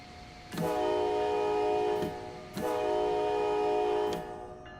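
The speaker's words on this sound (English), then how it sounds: "It's 2 honks to the horn" Two long blasts of a locomotive horn in Train Sim World 6, each a loud chord held for about one and a half seconds with a short gap between, close and with no talking.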